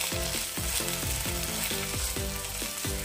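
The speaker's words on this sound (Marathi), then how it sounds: "8 मिनिटानंतर तुम्ही बघू शकता आपला मसाला मस्त परतून झालेला आहे" Masala for egg malai masala sautés in a pan after about eight minutes of cooking, a dense continuous sizzle running under rhythmic low-pitched backing music.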